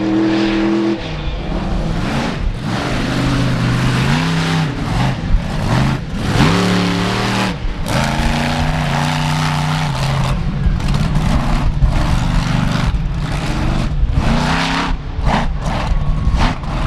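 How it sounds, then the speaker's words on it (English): A big 4x4 truck with a Ram engine roars at full throttle through a wheelie at a four-wheel jamboree in Indianapolis, rising and falling in loud, sustained revs over crowd noise. "he laid into that huge ram power and willed the truck to keep the wheelie going"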